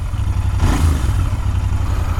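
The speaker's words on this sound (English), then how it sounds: "Let me give a couple of revs." Royal Enfield Interceptor 650 with an aftermarket exhaust, heard close as a deep, throbbing idle that rises into a short rev and then settles back.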